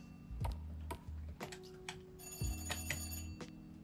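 A telephone rings in a video game about cleaning up a crime scene, with two bursts of bright, rapid ringing separated by a pause and steady tones underneath, loud and close with no talk.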